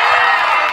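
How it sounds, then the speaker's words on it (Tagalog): A festive night-event crowd cheers and shouts, a dense burst of voices and whoops, loud and close, lasting under a second. "baka pwede mo makahingi ulit ng palakpakan na may kasamang hiyawan"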